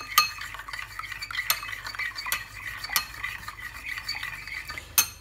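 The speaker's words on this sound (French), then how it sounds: "Et vous allez remuer. La gélatine va fondre." A spoon stirs a liquid cream mixture with melting gelatin for a Kinder cheesecake, giving repeated scraping, clinking strokes against the bowl in an irregular rhythm, close and clear, with no voices.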